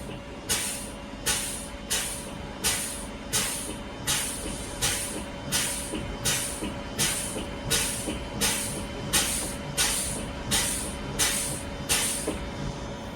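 Air brakes on a transit bus as the service brake pedal is pumped rapidly, giving a steady series of sharp hissing releases about every second, close and even, over a low idling hum.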